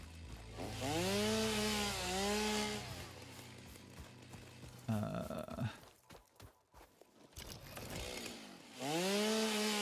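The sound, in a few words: chainsaw cutting in video game Satisfactory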